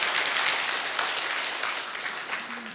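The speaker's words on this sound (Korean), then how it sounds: "박수" A church congregation applauds during a Sunday service in a dense, even burst of clapping that slowly fades, heard alone without speech.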